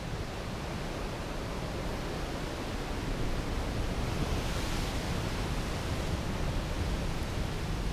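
Surf rolls steadily off a Hawaiian shore, a dense, broad wash of breaking waves with a slight swell midway. No voices are heard.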